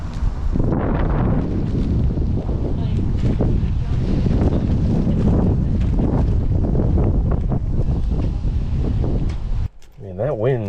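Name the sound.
strong wind blowing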